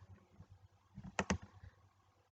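A few soft keystrokes on a computer keyboard while entering text in PowerPoint, faint taps followed by two sharper clicks close together, otherwise quiet.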